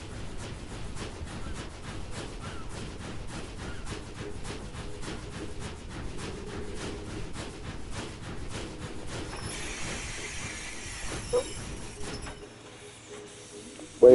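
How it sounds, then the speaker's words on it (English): Trains running in the Tradewinds building video game: a steady rhythmic clatter of wheels over rail joints with hissing that lasts over ten seconds, then fades into quieter mechanical noise and ends with a sharp click. "I'm still learning how to use my trains"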